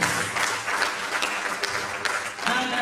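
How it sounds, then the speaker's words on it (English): Applause from the audience at a biomedical research conference's opening ceremony, a moderate patter of clapping that rises and dips for a few seconds with some voices mixed in. "Please another round of applause."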